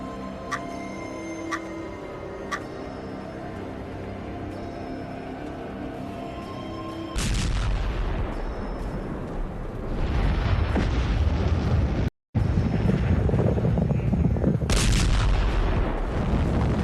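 After a quiet stretch with a few light beeps, a massive nuclear bomb explosion erupts into a sustained, roaring rumble that swells, briefly cuts out, then returns with another blast.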